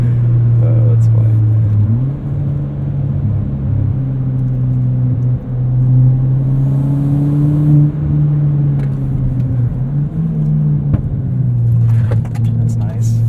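Inside a modified 2017 Ford Fiesta ST autocross car, the engine drones loud and steady, its pitch rising and dipping as the driver works the throttle, with faint talk beneath.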